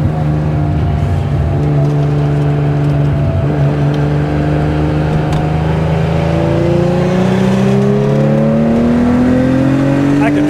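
A 1972 Porsche 911 T with a 2.8-litre fuel-injected engine drives along, its loud engine drone rising steadily in pitch as it accelerates, heard close and continuous throughout.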